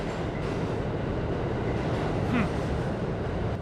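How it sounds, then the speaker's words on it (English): A train rumbles past with a steady low roar and rattling wheels, briefly joined by a faint metallic squeal partway through. "Maybe that's a train."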